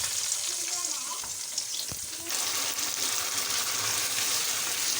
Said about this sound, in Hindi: गोश्त हमारा फ्राई हो रहा है